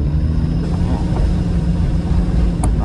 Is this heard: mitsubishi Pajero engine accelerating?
yes